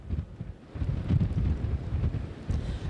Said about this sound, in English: the conditions out here are extremely windy right now